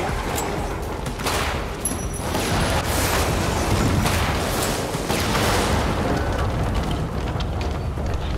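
Dense bursts of gunfire in Lara Croft and the Guardian of Light crackle and boom continuously over a noisy background, with no talking.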